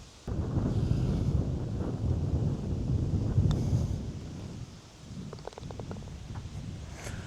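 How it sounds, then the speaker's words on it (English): Strong wind buffets the microphone on a golf course, a steady low rumbling roar that runs almost the whole time, easing briefly near the end before picking up again. "Super heavy wind in the face"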